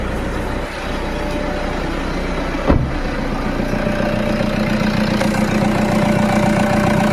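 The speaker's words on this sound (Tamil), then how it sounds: "சரிங்க, இன்ஜின் சவுண்டு பார்க்கலாம்." A used car's engine idles steadily at close range, a low even rumble with one brief louder knock partway through, and no talking.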